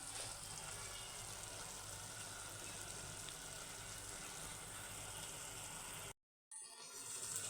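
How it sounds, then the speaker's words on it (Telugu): Water pours steadily into a pot of rice for a prawn pilaf, a continuous rushing splash that holds for about six seconds, cuts off abruptly, then resumes briefly. "గ్లాసున్నర వాటర్ వేస్తున్నాను"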